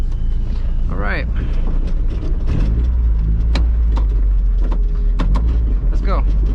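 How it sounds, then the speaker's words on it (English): An NA Mazda Miata with a Tomei 2-way limited-slip differential drives hard, its engine droning loud and steady throughout, with cabin rattles, repeated sharp clicks and clunks, and rising whine sweeps from the drivetrain. "This car rattles a lot and the sound is pretty annoying too"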